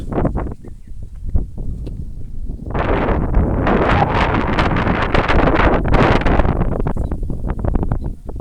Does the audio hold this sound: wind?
yes